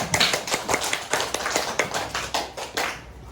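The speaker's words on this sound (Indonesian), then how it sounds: "Tepuk tangan." Hand clapping from a small group at an indoor class or workshop session, a quick run of distinct, close claps in a loose rhythm lasting a few seconds before stopping abruptly.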